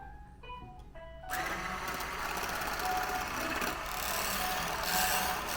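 Hopvision 5-in-1 hand processor whisk attachment starts after a second of quieter tones, then runs as a steady, loud whirring motor drone close to the microphone, with no talking.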